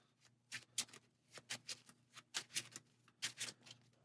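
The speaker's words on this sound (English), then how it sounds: "shuffling our encounter deck" A deck of game cards is riffled and bridged at a tabletop card game, a run of quick crisp clicking bursts in short clusters, faint and close with brief pauses between.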